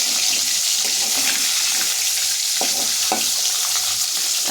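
Fish sizzles in hot oil in a pan, a dense, continuous crackling fry with occasional sharper spits and pops, close and steady throughout.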